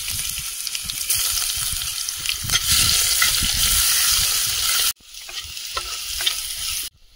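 Crushed garlic and black cumin (kalo jeere) frying in hot oil in a pan, a loud steady sizzle with stirring scrapes, briefly cut off and then resuming.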